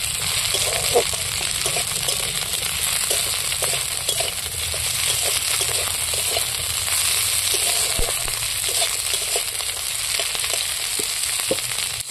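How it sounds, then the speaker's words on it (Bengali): Chopped capsicum sizzles and fries in a hot pan at a steady, even hiss, with soft scraping and clicking from stirring scattered through, close and continuous. "এইবার আমি ক্যাপসিকামগুলো তুলে দিচ্ছি এর মধ্যে, দিয়ে আবারও নাড়াচাড়া করছি"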